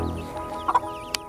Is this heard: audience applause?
no